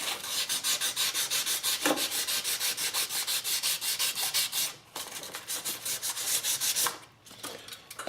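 A tin toy being sanded by hand with 600 grit sandpaper: steady rhythmic back-and-forth rasping strokes, close and fairly loud, with two brief pauses.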